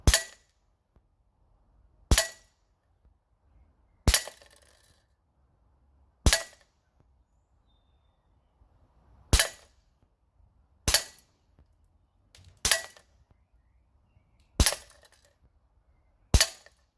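Tokyo Marui Sig P226 E2 airsoft pistol fired at a 10-meter range, ten sharp snapping shots spaced about two seconds apart, loud and close against near silence.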